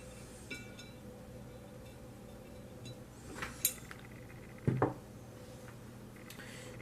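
Metal parts of a Hi-Point pistol are handled and fitted together during reassembly, giving a few faint clicks, then a louder metallic clink and scrape near the end against a quiet room.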